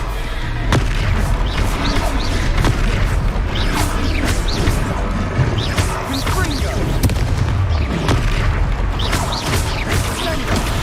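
Confringo fire spells explode in Hogwarts Legacy, a dense run of repeated booming blasts and crackling impacts throughout, loud and close amid continuous battle noise, with voices briefly speaking over it.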